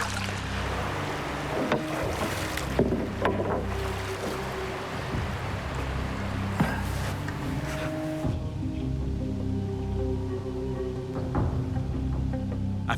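Canoe paddling on a remote river in a wild area, with a steady wash of water and hull noise and repeated soft paddle strokes and knocks, heard close and continuous with no talking.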